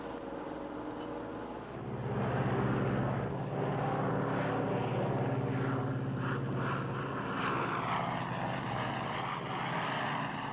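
A propeller airplane engine holds climb power in a steady, loud, droning roar that swells after the first couple of seconds, with a rough low throb continuing throughout and no voices.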